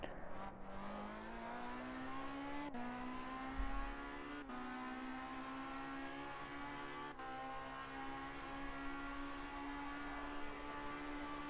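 A Formula C race car in a racing game runs flat out around Bathurst, its engine a loud, steady, rising whine with gear-change breaks, droning continuously close up without pause.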